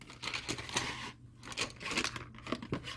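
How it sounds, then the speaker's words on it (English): A loud clattering rush of colored pencils spilling out of their package together, with crinkly rattling bursts spread over a few seconds. "I'm just going to dump my pencils out"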